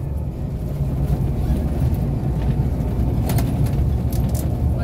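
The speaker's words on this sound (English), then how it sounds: "We're on the bus today." Steady engine rumble and road noise from inside a crowded city bus, loud and continuous with a few faint clicks and rattles near the end.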